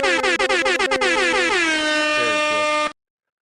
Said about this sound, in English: The air horn's going?